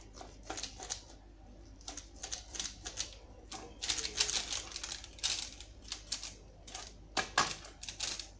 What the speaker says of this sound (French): Je vais essayer de découper pour voir l'intérieur.